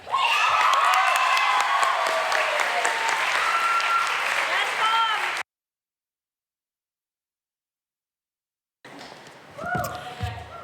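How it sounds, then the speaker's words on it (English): Loud applause and cheering from a crowd at a graduation ceremony for a teacher, dense clapping with whoops and shouts for about five seconds, then silence, then a brief return of crowd noise and voices. "Please give a round of applause for our mentor, leadership inspiration, and much loved teacher,"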